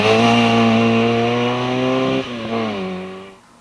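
A mildly modified Mini racing up the Gurston Down speed hillclimb, its engine loud and close with a strong buzzing note held at high revs, briefly dipping on a gear change before pulling away again and fading at the end.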